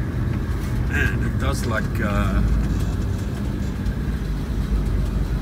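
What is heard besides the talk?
Nissan Y60 Patrol driving, rattly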